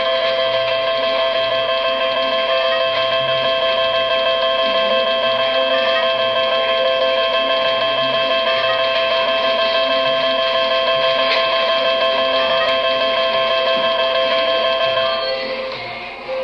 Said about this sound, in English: your credits will ring up right here